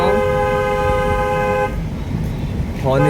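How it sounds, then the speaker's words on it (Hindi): A car horn blares in one long sustained honk during a driving lesson in traffic, then cuts off, with a short second toot starting at the end amid road noise. "हॉर्न दीजिए"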